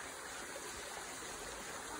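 A stream or river flowing gently in the Philippines, with steady soft rushing water and no talking.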